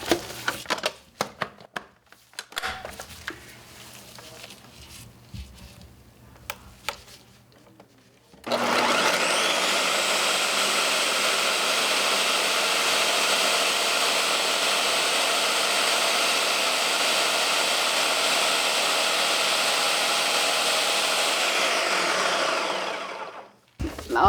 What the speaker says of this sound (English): So these are my 4 ingredients that I put in the food processor.